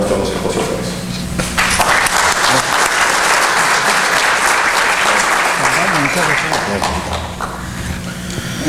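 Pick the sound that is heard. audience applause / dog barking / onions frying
audience applause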